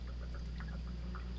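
Olive leaf extract pours through a plastic funnel into a bottle in a continuous, quiet trickling stream, with no talking.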